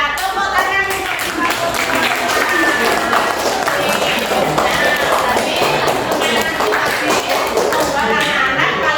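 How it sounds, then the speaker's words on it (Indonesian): A classroom of children claps hands in a loud, dense burst of overlapping claps, with voices mixed in, lasting the whole stretch. "Iya, tepuk tangan."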